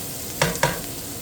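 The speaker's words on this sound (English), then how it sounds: "we're going to just saute this for about 2 minutes until they kind of brown up nicely" Vegetables sauté over medium heat under a soft continuous sizzle, with two quick scraping stirs in the pan close together.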